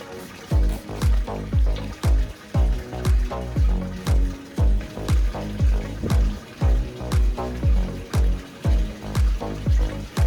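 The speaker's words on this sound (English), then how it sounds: "then spray it again with water." A spray bottle spritzes water onto a towel for germinating pepper seeds, again and again in a quick, regular rhythm, about seventeen close, crisp bursts with no talking.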